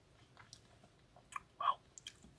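Chocolate sundae ice cream being eaten up close: soft, quiet wet mouth sounds and sticky smacks, a few small clicks and one louder squishy bite, with no voice.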